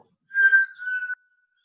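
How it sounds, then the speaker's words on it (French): Yoga breath drawn in through pursed lips, giving a single thin whistle that rises, holds steady for under a second, then cuts off abruptly, close and clear in otherwise silent surroundings. "Comme quand on siffle, comme quand on aspire par une paille."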